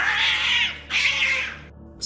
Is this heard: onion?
no